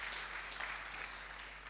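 Audience applause at a documentary award ceremony, a quiet, steady patter of many hands clapping in a hall, heard faintly and continuously for a couple of seconds.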